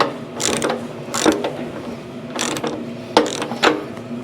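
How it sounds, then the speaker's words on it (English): A socket ratchet turning a fitting on a 2006 Harley-Davidson Dyna, several short clicking pawl bursts in uneven strokes with pauses between, close and clear with no talking. "I'll put my socket on there."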